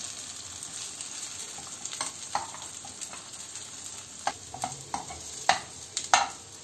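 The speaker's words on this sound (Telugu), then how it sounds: "ఇది మీడియం ఫ్లేమ్లో పెట్టి ఫ్రై చేసుకోవాలి ఇలా స్లోగా టర్న్ చేసుకుంటూ ఉండాలి" Leftover idli pieces fry in a pan over a medium flame under a soft, constant sizzle, with occasional sharper scrapes and knocks as they are turned slowly. Nearby and moderately quiet, with no voices.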